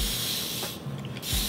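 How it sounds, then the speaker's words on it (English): Broadband hissing bursts from a non-aerosol trigger spray bottle of cleaning product, a few close, loud sprays with brief pauses between them. "I love the spray bottle on it. It's not an aerosol spray"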